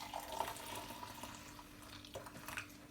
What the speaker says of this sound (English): pour some hot water in it like this